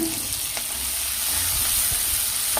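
Ginger, garlic, shallots, curry leaves and tomato sautéing in a pan for Chettinad fish gravy, a soft continuous sizzle with a few faint stirring scrapes, heard alone and fairly quiet.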